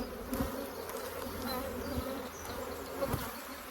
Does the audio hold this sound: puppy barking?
no